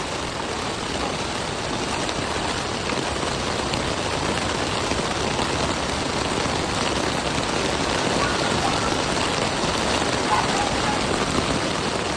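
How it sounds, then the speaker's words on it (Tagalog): Heavy rain pours steadily in a dense, loud hiss that never lets up. "Tuloy-tuloy pa rin yung pagluso ng ulan dito mga busing"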